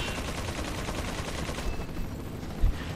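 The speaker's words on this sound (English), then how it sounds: "That guy only has a mounted machine gun." A mounted machine gun firing in the video game Resident Evil 4, a continuous rapid burst of gunfire that stays loud and dense throughout with a heavier thump near the end.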